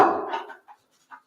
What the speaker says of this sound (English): she's trying to bark and eat at the same time